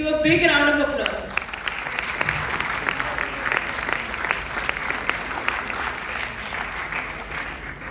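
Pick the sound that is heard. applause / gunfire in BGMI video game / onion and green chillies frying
applause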